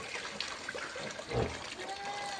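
Water flows from a homemade pump by a pig pen, a faint, steady trickling and splashing with one brief louder gush.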